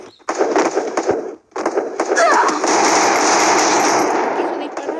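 Rapid bursts of automatic gunfire in the Free Fire battle royale video game, dense and loud, broken by a brief pause and then a long continuous volley, with voices underneath.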